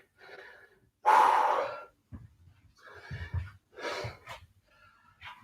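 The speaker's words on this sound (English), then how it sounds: "Panting as heavy as me?" Heavy panting after an intense exercise set in a workout class: several loud, breathy gasps and exhales in uneven bursts, close to the microphone.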